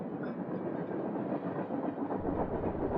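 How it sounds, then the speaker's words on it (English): A train passes with a steady, loud rumble and rolling rail clatter that fills the whole stretch, no talking over it. "Oh, that's a train."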